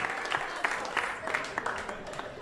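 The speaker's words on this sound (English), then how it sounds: "A round of applause." Couples in a comedy club audience give a modest round of applause, scattered distinct claps in an uneven rhythm over a soft crowd murmur, fairly quiet and brief.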